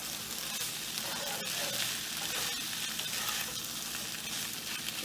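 Pasta mix with sprinkled black pepper sizzles steadily in a hot pan while it is stirred, giving a continuous close frying hiss with light scraping and no talking.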